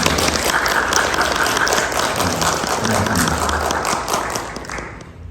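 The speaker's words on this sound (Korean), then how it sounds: "여러분 박수로 환영해 주시면 감사하겠습니다." A Korean church congregation gives a newly registered member a round of welcoming applause during Sunday worship, steady crowd clapping that tapers off near the end.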